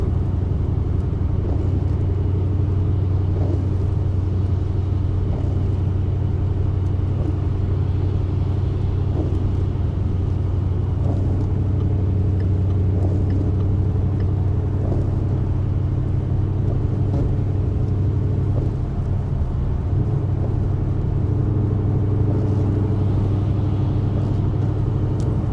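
A boosted Ford Mustang GT cruises along in the rain, its engine giving a steady low droning rumble with road noise, even and continuous from a cabin perspective with no talking.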